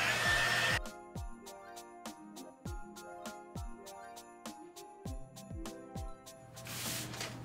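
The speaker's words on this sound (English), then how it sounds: "So now I'm going to take my heat gun and blow it." A heat gun blows a loud, close rush of air to dry hairspray on a glitter jewelry box. The air cuts off, leaving a stretch of rhythmic clicking, then the blowing returns at the end.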